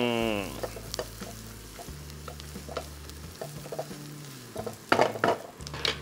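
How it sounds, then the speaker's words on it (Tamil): Onions fry in a pan for a Bangalore-style donne biryani with a steady close sizzle, broken by intermittent scraping and spoon clatter that grows louder toward the end. "அந்த வெங்காயத்தை இதில் கொட்டுங்க. இந்த வெங்காயம் நல்லா வதங்கட்டும்."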